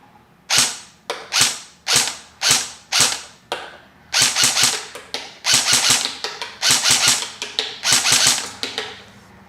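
A KWA VM4 X-10 airsoft AEG rifle set up as an out-of-the-box DMR fires a rapid series of sharp mechanical shots, single cracks and short bursts in an uneven rhythm, close and loud with no talking.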